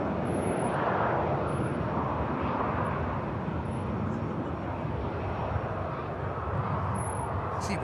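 A Corendon airliner taking off at the airport, a broad steady jet engine roar held at moderate loudness for several seconds, heard from a distance.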